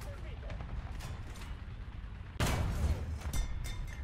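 Tank cannon and gunfire in the online combat game War Thunder, a loud blast opening near the middle over a constant din of engine rumble and scattered battle noise, with a voice talking over it.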